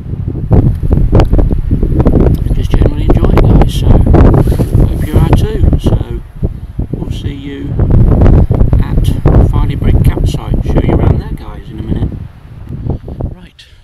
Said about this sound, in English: It's far too windy